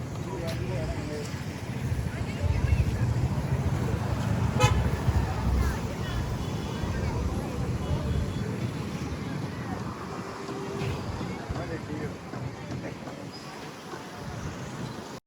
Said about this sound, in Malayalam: നല്ല കാറ്റുണ്ട്, എന്താ അടിപൊളി കാറ്റ്.